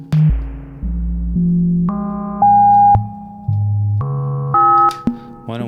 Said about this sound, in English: hear what a sine wave sweep sounds like on this thing